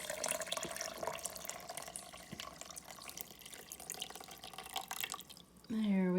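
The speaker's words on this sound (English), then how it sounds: "And fill it up 3/4 of the way with water." Water runs from a tap into a blender holding a handful of shredded paper for homemade paper pulp, a steady splashing fill under faint background noise, ending with a louder rising gush as the jug fills.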